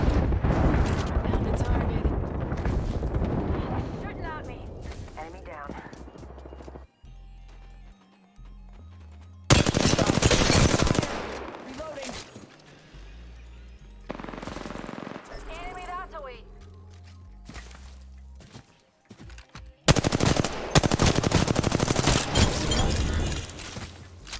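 An R-99 submachine gun in Apex Legends fires at close range in Season 7 play as Bangalore, in three loud, dense bursts of rapid automatic fire separated by quieter stretches of game noise.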